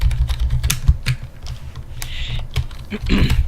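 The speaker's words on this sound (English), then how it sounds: "And Chad, I'll wait for you to be done typing." Fast, clacky keystrokes rattle across a computer keyboard in irregular bursts, loud and close, with a few sharper taps mixed in and no speech over them.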